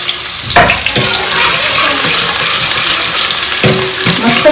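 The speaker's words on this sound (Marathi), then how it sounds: "तर आधी ना आपल्याला कांदा तळून घ्यायचा आहे." Onions frying in three spoons of oil give a loud, dense sizzle that hisses continuously, with a couple of brief stirring scrapes as the pieces are moved around the pan.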